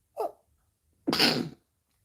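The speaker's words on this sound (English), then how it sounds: "I got to sneeze." A short sharp intake of breath, then one loud explosive sneeze close to the microphone, followed by quiet.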